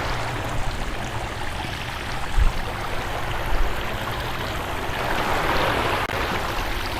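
Water streams steadily from a shower at a resort, a loud, continuous broadband rush with no voices.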